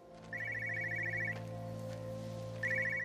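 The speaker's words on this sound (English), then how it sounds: "Hear a phone." A car phone rings in the Everybody's Gone to the Rapture video game, with two bursts of electronic trilling separated by a pause, fairly faint over a low steady background hum.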